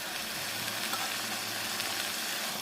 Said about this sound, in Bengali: এখন একবার ভালো করে মশলাগুলো মিলিয়ে দেব।